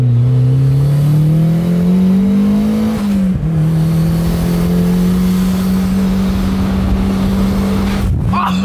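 A roadster with Öhlins suspension drives along with a loud, steady engine drone that rises in pitch, dips briefly around a jolt, and ends with a thudding knock over road noise.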